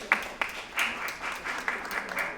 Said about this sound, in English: I'm sure a woman started that applause.